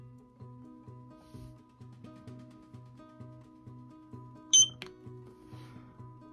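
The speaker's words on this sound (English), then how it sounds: "Now that you've heard the beep, you hit Next." A short, bright electronic beep from a Eufy Cam 2C security camera syncing to its base cuts through a steady low mechanical hum with a rhythmic pulsing pattern, standing out clearly for a moment.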